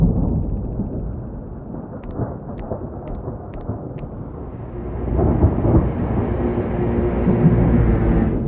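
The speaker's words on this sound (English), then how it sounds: "looks like a storm is brewing" Deep thunder rumbles from a brewing storm at sea, a heavy continuous roll that swells louder toward the end, with a few faint high clicks partway through.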